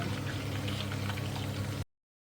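Ghee renders from butter in a pan on a home stove, bubbling and crackling steadily and close for nearly two seconds before cutting off abruptly to silence; no voices.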